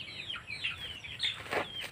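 Chickens being fed cluck and chirp softly nearby in short, irregular calls against quiet outdoor background.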